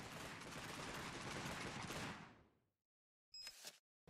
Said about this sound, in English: These guys are shooting at something. Oh, that's just the mortars.